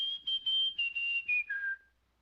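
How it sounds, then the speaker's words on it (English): Whistled melody from a cartoon character at a picnic, a bright single tone in several short phrases that slide gradually lower, ending on one long held note, clear and close with no talk. "Honey, I could listen to you whistle all day."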